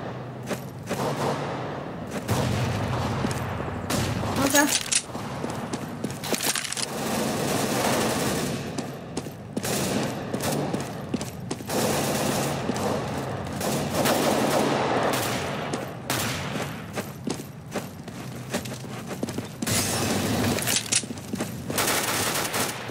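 Gunfire in the video game CS:GO during a competitive matchmaking round: dense bursts of rapid automatic shots and single cracks, loud and near, with short pauses and occasional thumps.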